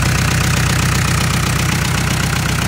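Kubota M7950DT four-wheel-drive tractor with a four-cylinder engine of about 80 horsepower runs smoothly at idle, a loud close steady rumble with an even rapid pulse.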